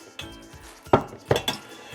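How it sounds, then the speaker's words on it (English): Drained cooked pasta tipped into a metal pan for mac and cheese with ham, heard as a few close clanks and scrapes of a utensil against the pan, with no talking. "So to this, we are going to add our cooked pasta"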